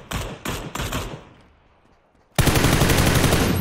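Gunfire in the PUBG video game: three short bursts, a fading echo and a quiet gap, then a loud sustained automatic volley.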